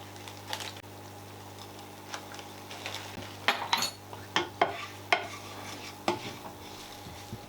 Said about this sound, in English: give it all a good stirring just to stop the spices from burning